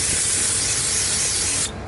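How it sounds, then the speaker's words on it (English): Brake cleaner sprayed in a steady, loud continuous hiss into the engine bay of a Jeep Wrangler with a 3.8L V6, radiator removed, lasting under two seconds before cutting off. "I like to just take a chance to clean things up with some brake cleaner"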